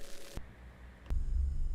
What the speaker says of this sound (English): broken radio.